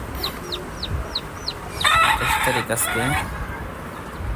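Newly hatched chicks peep in a rapid series of high chirps near a hen, followed by loud hen clucking and a crowing call, with household background noise throughout.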